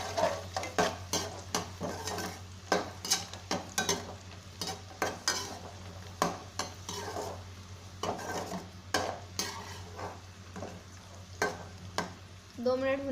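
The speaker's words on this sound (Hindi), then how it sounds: "इसी के साथ हम आधी कटोरी कॉर्न भी फ्राई कर लेंगे। इसके साथ ही हम थोड़ा सा काजू और बादाम भी भून लेंगे।" Corn kernels, cashews and almonds frying in a kadai for restaurant-style veg biryani, with steady sizzling under repeated clattering scrapes and knocks of a spoon against the pan, fairly close and busy throughout.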